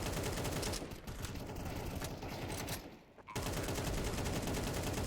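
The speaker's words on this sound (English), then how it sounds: "Shots come through" Dense rapid gunfire rattles in a competitive video game match, near and continuous bursts with a brief lull before firing resumes.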